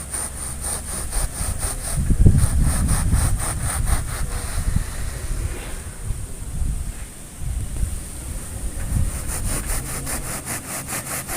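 A hand saw cutting through rockwool and foam seedling cubes, rhythmic rasping back-and-forth strokes close to the microphone, pausing briefly midway before resuming, with some wind noise.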